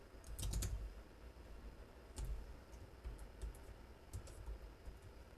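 Keys tapped on a computer keyboard while entering a database command, a few soft scattered clicks and short bursts at low level, fairly close with a quiet background.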